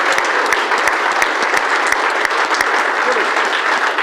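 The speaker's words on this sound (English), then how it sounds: "these guys will go crazy with applause" Conference audience bursting into loud, sustained applause after a card trick, many hands clapping densely and evenly close by, with individual sharp claps popping out of the wash.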